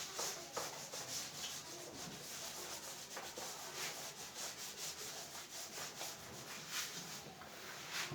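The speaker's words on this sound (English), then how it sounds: "I will rub this part." Steady scraping and rubbing as writing is erased from a classroom board during an economics lesson, a continuous close friction sound with no talk over it.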